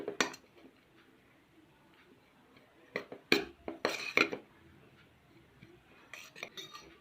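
A spoon scrapes and clinks against a bowl while grated carrot is mixed with salt and pepper: a few short sharp clatters in small clusters over a quiet background.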